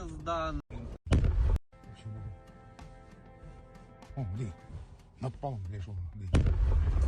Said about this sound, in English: look at the explosion and how long it takes for the sound wave to hit him